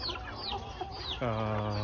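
Chickens clucking at close range, a few short soft clucks followed by a louder, sustained tonal call near the end.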